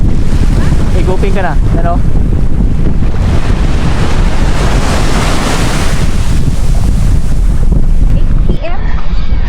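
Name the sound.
strong wind on the beach at Rapid Bay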